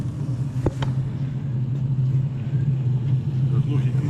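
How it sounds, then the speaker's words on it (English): A Range Rover engine idles with a steady low rumble after a fuel pump replacement, a brief metallic clank early on, the hum continuing evenly at moderate loudness. "we would probably best start the car and make sure it's bled properly"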